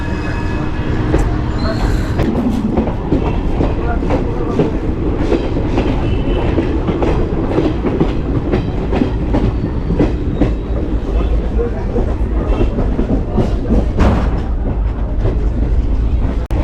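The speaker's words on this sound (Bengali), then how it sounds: "বিহার থেকে আসছে এই ট্রেনটা" A passenger train, the Ganadevta Express coming from Bihar, rumbles loudly and steadily along the tracks with clickety-clack wheel rhythm and faint squeals, heard up close from a window seat inside the carriage.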